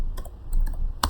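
A few crisp keystrokes tap out an IP address on a computer keyboard while configuring a router interface, four quick separated clicks with the last one loudest, close and alone over a low background hum.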